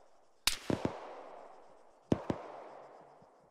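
Distant gunfire in the military shooter Arma: two separate sharp cracks about a second and a half apart. Each is followed by quick echoing reports and a long rolling tail over quiet ambience, with no talking.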